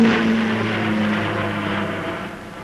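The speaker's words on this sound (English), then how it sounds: "The Vickers Viscount can claim the honor of having been the first turbine-powered airliner to carry fare-paying passengers in 1950." A Vickers Viscount turboprop airliner from around 1950 flies past with a steady droning engine roar and a faint high whine, loud and fairly close, fading a little toward the end.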